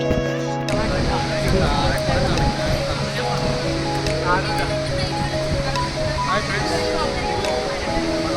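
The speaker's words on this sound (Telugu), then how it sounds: "వాటర్ఫాల్ దగ్గరికి వచ్చాము" A steady, loud rush of falling water from a Kerala waterfall fills the whole stretch, with a voice talking faintly beneath the constant roar.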